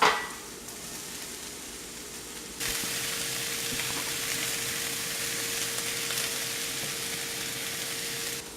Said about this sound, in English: You want to have this sauteed for 5 to 10 minutes or so, or until every bit of the vegetables are softened.